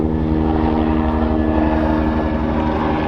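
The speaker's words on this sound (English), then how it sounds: "So those choppers flying over and everything" Helicopters fly over a Hollywood rooftop, a steady, continuous rotor and engine drone heard from the roof without pause or speech.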